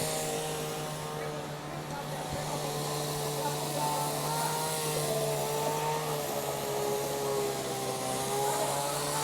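A steady engine drone of chainsaws hums throughout at a distance during roof reconstruction, with its pitch shifting slightly and voices faintly underneath.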